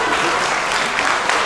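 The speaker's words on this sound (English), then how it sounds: "No, you can clap." An audience applauds at a high school small ensemble concert, a steady, dense wash of many hands clapping at an even level throughout.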